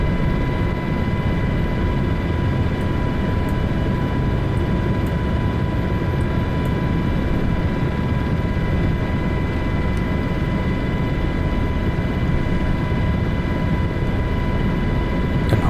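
Light aircraft heard from inside the cabin on approach for landing near the Golden Gate and Alcatraz, a steady loud engine drone with a constant tonal hum throughout, no breaks or changes.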